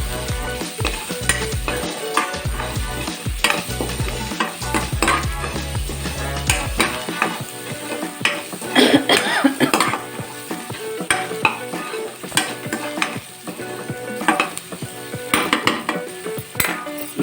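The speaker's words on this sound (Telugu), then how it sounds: "ఇది బాగా మిక్స్ చేసుకోవాలి." A utensil scrapes and clatters through chole masala in a pan, loud repeated stirring strokes over a sizzle that fades partway through, close up with no talking.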